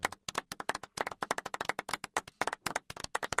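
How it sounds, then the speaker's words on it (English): A single person giving a light golf clap, crisp separate claps in a quick, slightly uneven rhythm, close and dry with short gaps between them. "Golf clap, you sir."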